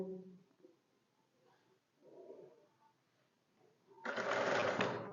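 A sewing machine starts up near the end to stitch the shoulder seam of a simple shirt, a loud close whirring run after a few seconds of quiet handling sounds.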